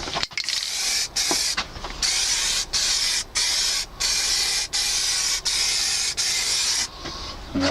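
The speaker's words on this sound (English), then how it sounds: "So that's it all sprayed up." Spray paint hisses from a can onto a motorcycle oil cooler cover in a string of about eight close, loud bursts, each lasting roughly half a second to a second, separated by brief pauses.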